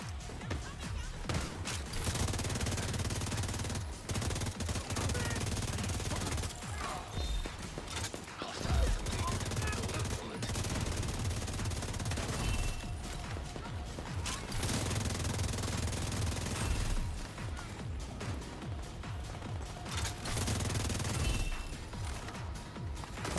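Gunfire in The Division 2 with a golden bullet loadout, dense rapid shooting and impacts through most of the stretch, with voices and game sounds mixed in.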